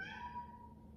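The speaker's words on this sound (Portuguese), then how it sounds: "meu gatinho aqui, olha" A pet cat lets out a single close, clear meow that tapers off over a second, with no voices alongside it.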